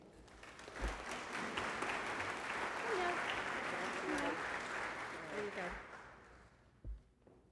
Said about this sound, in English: Let's give a round of applause to Christine.